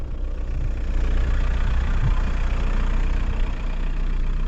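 A Volkswagen Bora 1.9 TDI diesel engine idles continuously with a steady, low rumble, close and fairly loud, with an even throb and no other sounds.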